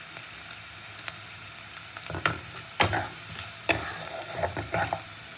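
Chopped ginger and garlic sizzle in hot oil in a pan, a steady low frying hiss broken by several sharp scraping stirs and clinks of a spatula, close and fairly quiet with no voices.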